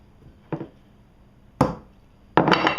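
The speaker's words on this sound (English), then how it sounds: "Just a little hit to bust through the paper" Three sharp hammer strikes land on paper to punch a hole for screws while making a homemade sharpener, spaced about a second apart, close and crisp, with the last hit heavier and ringing on.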